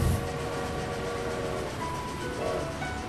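A winter train running through snowy Hokkaido, a loud continuous rumble and rattle of the carriages filling the whole stretch, with faint tonal whines rising through the steady noise.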